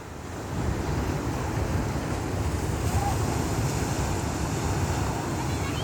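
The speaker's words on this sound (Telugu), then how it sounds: "చూసారా బీచ్, కేరళలో కొచ్చి ఏరియాలో వచ్చాము బీచ్." Waves breaking at an open beach near Kochi, Kerala, a steady, loud surf roar mixed with gusty wind buffeting the microphone.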